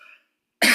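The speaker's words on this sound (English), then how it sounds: "Excuse me, I have to cough." A single loud, close cough bursts out after a brief moment of near silence, preceded by a faint tonal hum.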